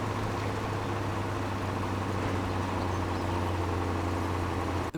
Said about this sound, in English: The reverberation of massive diesel engines paired with the sounds of birdsong and waterfalls